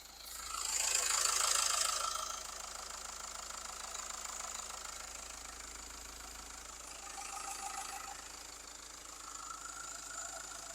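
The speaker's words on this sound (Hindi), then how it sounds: "डीजल इंजन एमहॉक है ये आप इसकी साउंड आप चेकआउट करो।" A 2.2-litre mHawk diesel engine in a 2024 Mahindra Scorpio Classic S idles steadily close by, a continuous mechanical hum with faint rattling and a brief louder swell near the start.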